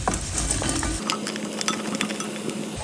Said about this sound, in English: we're going to go ahead and add our frozen broccoli